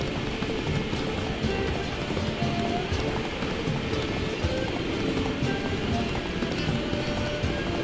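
A horse gallops in The Witcher 3, its rapid hoofbeats drumming continuously and loudly, close by, across the whole stretch.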